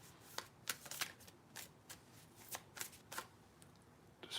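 A mini deck of cards being shuffled by hand in a series of soft, quick riffles and taps, close and fairly quiet, with no voices.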